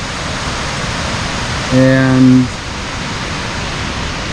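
Rushing water of Glacier Creek on a misty morning after rain, a steady broadband rush heard from a distance below, with a brief spoken word partway through.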